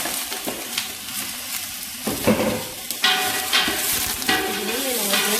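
Chopped onions with pepper fry in a pot of Haitian vegetables, giving a steady close sizzle while a spoon scrapes and clatters against the metal in irregular bursts.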